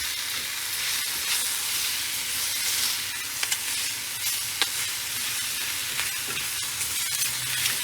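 Spinach and olive oil sizzling in a pan, a steady hissing fry with light crackles and a few sharp clicks of stirring, close and even, no voices.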